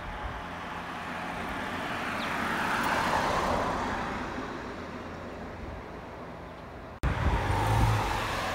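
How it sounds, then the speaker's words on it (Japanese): A Toei city bus on the Ume 74 route pulls in from the Saitama side toward the Tomioka 1-chome stop, its engine and road rumble swelling steadily over several seconds before the sound cuts and resumes louder at the end. "埼玉県側から何事もなかったかのように都営バスがやってきました。"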